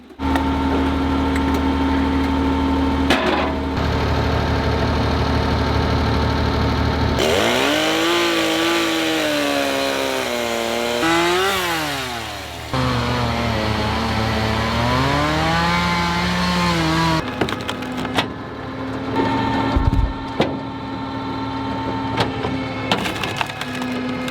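A chainsaw runs steadily and loudly, its engine pitch rising and falling as it revs and bites into wood, with brief idle stretches between cuts.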